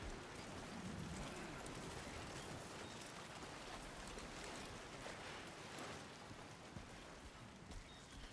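Steady rain falls in the Death Stranding 2 game world, a soft, even hiss that stays constant and fairly faint throughout, with no voices over it.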